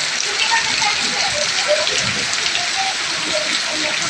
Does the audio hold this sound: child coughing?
no